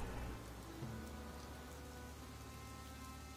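Steady rain falls in the video game Northgard, a dense, continuous hiss of drops on surfaces that holds at an even level throughout, with no voices.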